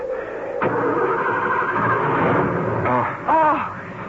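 In a radio drama, a car that has crashed into boulders cranks and its engine catches, running rough and loud for a few seconds before a brief rev, with no voices over it.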